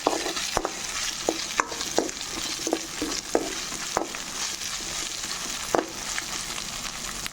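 Curry leaves and chopped medium tomatoes sizzle in hot oil for an aloo chana dal curry, giving a steady close hiss broken by stirring scrapes and small pops, with no talking.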